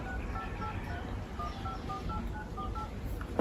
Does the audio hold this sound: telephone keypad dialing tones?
yes